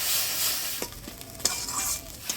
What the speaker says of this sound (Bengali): সব মশলাপাতি দিয়ে নাড়াচাড়া করে নিলাম